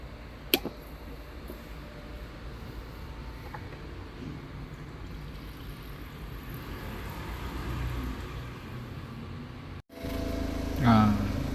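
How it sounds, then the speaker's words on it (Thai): A BMW 525d diesel engine idles with a steady low rumble after a sharp start click, then the pitch and level shift near the end as the running engine is heard close up. "ทำการ สตาร์ทเครื่องยนต์นะครับ"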